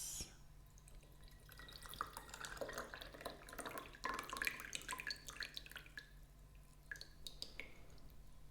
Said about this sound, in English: let's pour this.